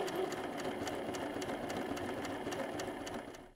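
A sewing machine runs steadily at close range, stitching around the rim of a fabric baby bunny beanie slipped over the machine with its extra free arm removed, a fast even rhythmic whir throughout with no talking.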